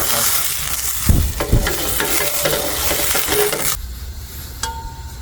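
Soju splashed into a strongly heated frying pan to clean it at a winter campsite gives a loud, steady hiss and sizzle with a few sharp crackles and bursts, then settles into a quieter simmer; no one speaks.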